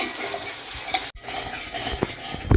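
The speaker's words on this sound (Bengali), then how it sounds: "কষে নেব মশলাটা ভালো করে কষবো" Spice masala being stirred and fried in a pan for a desi-style diamond fish dish, a steady close scraping and sizzle with a few louder clatters of the spoon near the end.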